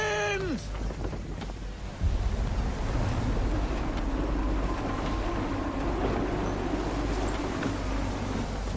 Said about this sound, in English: Rogue wind!